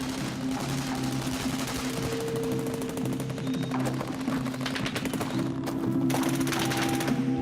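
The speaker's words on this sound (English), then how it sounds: "The machine gun fire came from a concrete bunker disguised as a farmhouse" Machine gun fire rattles from a concrete bunker disguised as a farmhouse on a 1941 battlefield near Kiev, with rapid bursts over a droning background of engines and battle noise.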